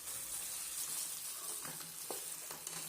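Chicken pieces are stirred into sizzling masala in a pot for bhindi gosht, giving a faint, steady frying hiss with a few soft scraping and clinking sounds from the spoon.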